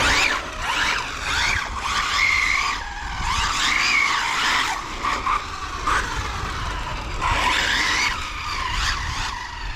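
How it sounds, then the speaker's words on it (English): An HPI Maverick RC car with a locked speed spool and 30/35 gears spins its tires, giving repeated rising squeals and whines in bursts over a gritty scrubbing noise, close and loud. "let's spin the tires a little bit here"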